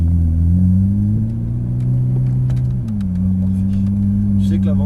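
Ferrari 458 Italia V8 idling at light throttle as it leaves the pits, a loud steady low drone with a slight dip and settle in pitch, heard from inside the car.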